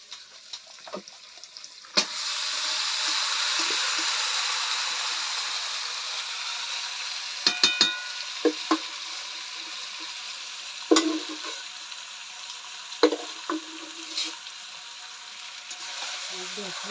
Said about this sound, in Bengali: টমেটো রসুন পেঁয়াজ একটু ফ্রাই হয়ে এলে মাংসটা ঢেলে দেব অবশ্য ফ্রাই হয়ে গেছে এবার ঢেলে দেবো